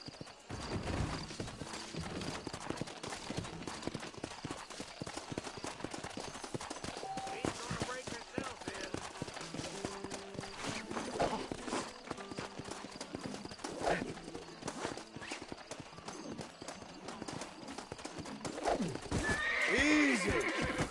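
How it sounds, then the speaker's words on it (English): A wild, tetchy horse in Red Dead Redemption stamps and clops its hooves through repeated bursts and lets out loud neighs and whinnies near the close, with a voice talking over it. "This steed looks right tetchy, I don't mind telling."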